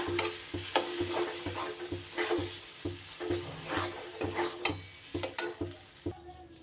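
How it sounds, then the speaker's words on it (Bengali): Ground lentil paste and pumpkin are stirred in a pan, a spatula scraping and knocking in an uneven rhythm over a soft sizzle, close and moderately loud. "ডালটা দিয়ে এবার ডাল কুমড়ো খুব ভালো করে মিশিয়ে নিতে হবে।"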